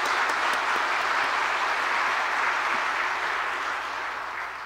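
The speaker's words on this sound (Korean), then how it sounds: "박수 한번 쳐드릴까요?" A church congregation applauds during a Sunday service to honor a retiring elder. The clapping is a dense, sustained round that stays loud throughout and fades slightly toward the end.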